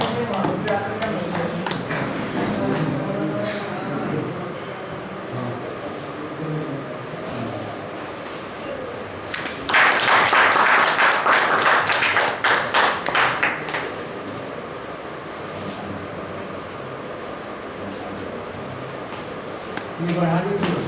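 Audience at an award ceremony and digital discussion at the Madhubani press club bursts into loud, dense applause lasting a few seconds, with talking before and after.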